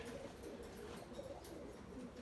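Pure-bred Erzurum white pigeons coo softly inside a coop, low repeated murmuring calls that are quiet and close, with no talking.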